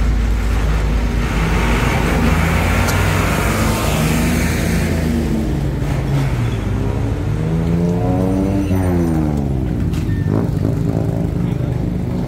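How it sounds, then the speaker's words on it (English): Cleaning trucks queue in a traffic jam on Khao San Road in Bangkok during the Songkran water festival cleanup, their engines rumbling loudly and steadily nearby with a passing vehicle sweep, while a person talks over it. "so I guess they have a cleaning truck traffic jam here"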